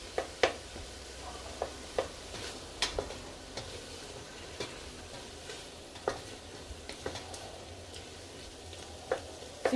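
Oil and paprika sizzle softly in a pan while being stirred, a quiet steady frying hiss with scattered light scraping ticks from the spoon, close and without talk.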